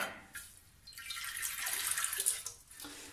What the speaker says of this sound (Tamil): இப்போ நான் இதில் கொஞ்சம் தண்ணி விட்டுக்கிறேன்